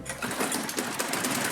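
A just-repaired small lawn mower engine runs roughly, with a dense, rattling, uneven buzz at steady loudness that sputters and chugs.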